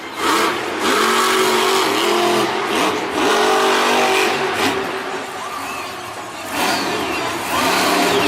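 The Monster Mutt Dalmatian monster truck roars and revs in loud, sustained bursts at a Monster Jam arena show in Nashville, engine pitch surging and dipping amid crowd noise.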